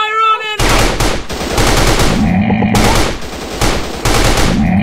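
Loud automatic weapon fire in the mobile shooter Commando Run, long sustained bursts separated by brief gaps, a short tonal game sound before the first burst, close and dominant with no talk.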